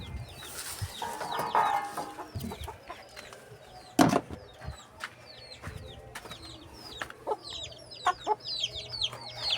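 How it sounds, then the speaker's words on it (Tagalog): Backyard chickens cluck and chatter in short, scattered bursts at close to moderate distance, with a sharp thump partway through and a steady low background. "Ito pala aming mga manok guys"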